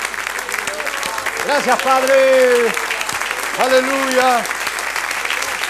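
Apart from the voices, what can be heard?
church congregation applause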